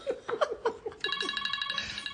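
A bright electronic ringtone starts midway, a repeating multi-tone melody that follows a few short laughs or chuckles, fairly close and clear.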